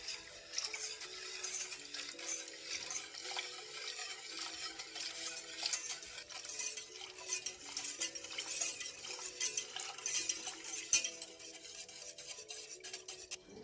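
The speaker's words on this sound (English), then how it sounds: "Add the cold milk while mixing." Cupcake batter for Spanish cupcakes is whisked steadily as cold milk goes in, a continuous close scraping and stirring against the bowl that runs without pause and with no talk.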